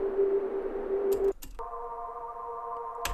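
A synthesized drone made from a sine wave holds a steady pitch, then cuts off with a brief click and gives way to a second sustained layered tone; electronic, even and unvarying, with no voices.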